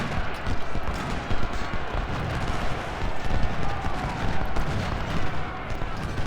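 Artillery in the Civil War strategy game Ultimate General: Civil War keeps up a dense, continuous roar of overlapping cannon and musket fire, a loud rumbling barrage without clear gaps.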